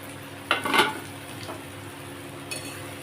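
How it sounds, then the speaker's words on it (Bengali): Onions fry in a covered pan. A few clanks sound as the lid comes off, then a soft, steady sizzle continues with light stirring and no voices. "তো চলো দেখি ঢাকা খুলে কতটা পেঁয়াজ ভাজা হলো।"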